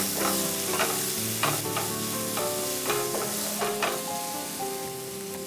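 Spring onions sauteing in a pan over a medium flame, with a steady sizzle broken by repeated scraping stirs of a spoon, close and moderately loud with no talking.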